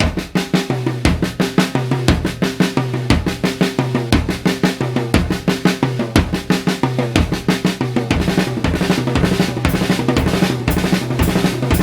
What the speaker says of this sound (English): we could play the last two beats of the paradiddle diddle between the toms, which would sound like this